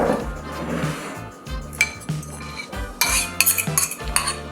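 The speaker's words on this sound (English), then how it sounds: "Get a bowl that's a little too small for the eggs and start whisking." Eggs are whisked in a bowl that is a little too small, with quick metallic clinks and scraping against the bowl in uneven bursts, close and clear with no talking.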